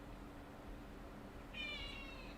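A cat gives a single short meow in the second half, faint and alone over a quiet indoor background.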